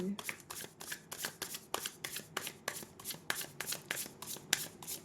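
Tarot cards are shuffled for a fortune reading, a quick, even series of crisp card slaps and riffles, close up and repeating at a brisk rhythm.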